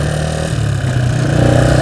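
Motorcycle engine with a PWK carburetor being tuned, running close and loud in a short steady burst with the throttle rising slightly toward the end, no talking.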